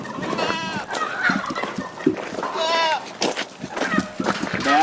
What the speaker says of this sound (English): you worried about your goat?